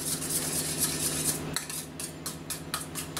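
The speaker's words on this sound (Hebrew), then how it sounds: "עכשיו אני מערבב אותם יחד" Utensils clink and scrape against a bowl while garlic and sauce ingredients are stirred together, a steady run of close metallic taps and rattles with no talking.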